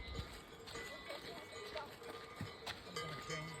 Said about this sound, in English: Swiss cows.